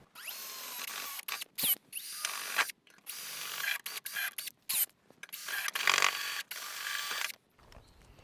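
A power drill boring a 6mm hole through the metal body of a Toyota Prado 2.8L 150 series, in several short close bursts with brief pauses between them.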